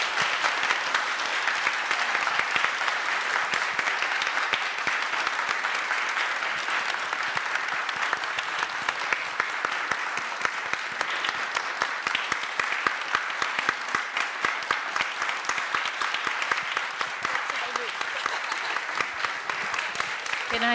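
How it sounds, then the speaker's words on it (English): Sustained applause from a book-event audience, dense and steady clapping that fills the whole stretch at an even level, with no pause or letup. "Let's give her a round of applause."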